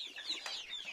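Cochin and Padovana chickens cluck and chatter together outdoors on a foggy morning, a steady mid-distance flock murmur with a few sharper cluck notes, no talking.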